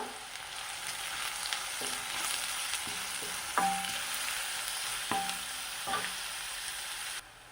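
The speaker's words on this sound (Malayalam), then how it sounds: "അപ്പോൾ ഇതാ സവാള ചെറുതായി മുറിച്ചത് ഞാൻ ചൂടായ വെളിച്ചെണ്ണയിലേക്ക് ചേർത്ത് കൊടുത്തു." Finely chopped onions sautéing in hot coconut oil, a constant close sizzle broken by several sharp scrapes and knocks of a stirring spoon in the pan.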